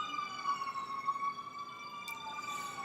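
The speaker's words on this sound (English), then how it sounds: "Here's the sirens." A wailing siren sounds steadily at moderate distance, its tone holding and wavering, with a brief click partway through and no talking.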